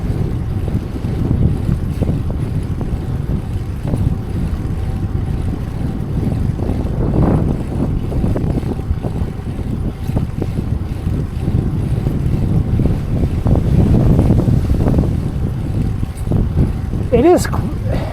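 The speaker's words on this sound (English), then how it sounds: "It's getting windier, I think." Wind rushes and buffets the microphone throughout a bike ride, a steady loud roar with gusty swells. A rider talks intermittently over it.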